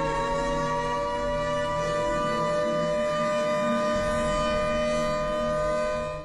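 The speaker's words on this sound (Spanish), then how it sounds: "TT22. Un doble tono repetitivo que se mete en la cabeza como si algo muy malo estuviera por pasar." TT22 siren blaring loud and continuous on its double tone, a steady layered wail running for about six seconds with no voices.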